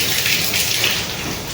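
Running water splashing over raw chicken meat being washed for biryani, a steady hissing spray without pause, close and fairly loud.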